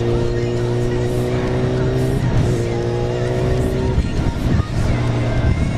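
A Kawasaki motorcycle engine revs and accelerates close by, its steady harmonic drone climbing in bursts with shifts between gears, loud and continuous over several seconds.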